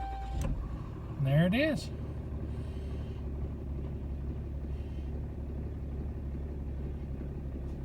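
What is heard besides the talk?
Cummins 6.7 diesel engine starting on Ram truck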